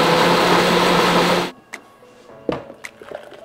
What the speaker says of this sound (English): I've pureed all of that yummy soup,